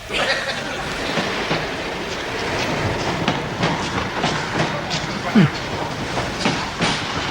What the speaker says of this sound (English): Train now arriving at platform 8.